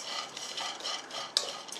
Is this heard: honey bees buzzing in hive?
no